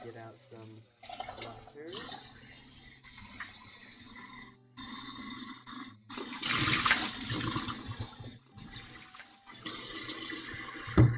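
Water runs from a tap in the video game Virtual Bakery while bread is being made, coming in several bursts of hissing flow between pauses, with a voice talking over it at times.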